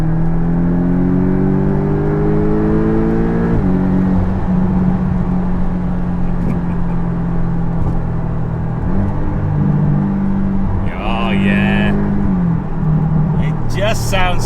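A Porsche 718 Boxster GTS fitted with a new exhaust is driven on an open road, its deep bassy engine drone rising and shifting through gear changes, steady and close throughout, with people talking over it.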